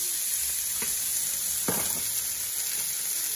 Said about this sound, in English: So we use the back of the pan to sear off the back of it.